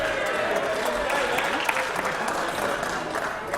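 Audience clapping fills a parliament chamber during a heated question time in the Australian House of Representatives, a steady, fairly loud wash of applause that persists throughout with some voices mixed in.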